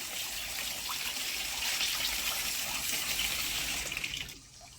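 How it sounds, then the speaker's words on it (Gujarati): Neem leaves rinsed under clean running water from a tap, a steady splashing gush close by that continues evenly and then drops away abruptly near the end. "હવે એને ચોખ્ખા પાણીએ ધોઈ લઈએ"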